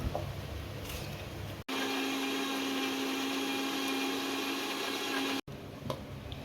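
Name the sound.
mixer grinder pureeing tomatoes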